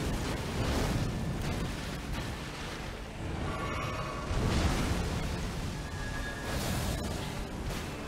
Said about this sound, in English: That's a whole explosion